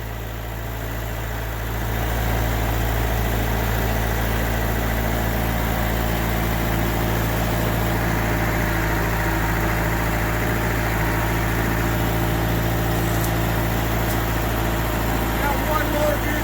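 A Kioti DK45S tractor, left outside in the weeds for three years, runs in low gear with a steady, loud, droning engine hum that rises slightly at the start and then holds constant, with people talking over it.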